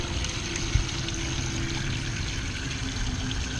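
Steady running water splashing and pouring over a hand close by while rinsing off Plasti-dip, a continuous wash of noise with a faint underlying hum.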